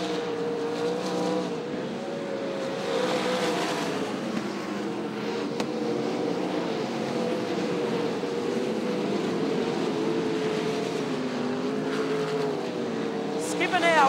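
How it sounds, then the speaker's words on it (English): Race cars roar around Sydney Speedway at a distance, a steady droning whine that rises and falls as they pass, with a commentator talking over it. "The car just turned right on him and nearly took the front end out of Clayton Hart's car."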